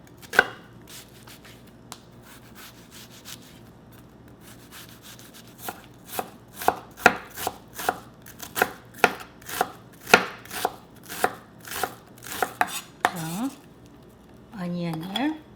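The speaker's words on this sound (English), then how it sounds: "Let's mince onion." Half a large onion minced with a knife on a cutting board for japchae: faint scattered taps at first, then a run of loud, rapid, evenly spaced chops, followed by a brief scraping sweep.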